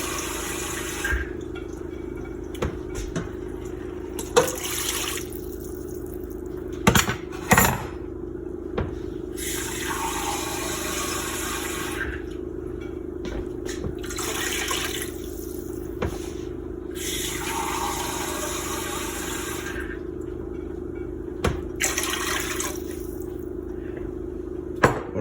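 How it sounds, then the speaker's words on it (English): A steady stream of water, three cups, pours and splashes into a cooking pot of chicken stock, running continuously with a low background hum and occasional clinks of metal. "First we're going to add 3 cups of water right here to make more of our stock with."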